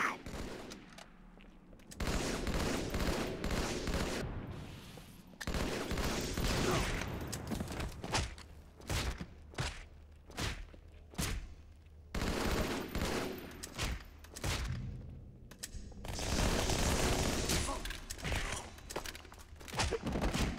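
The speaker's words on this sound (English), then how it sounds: "I'm getting shot!" Halo 2 gunfire in rapid bursts and sustained fusillades, loud and close, with heavy thumps between volleys and talk mixed in.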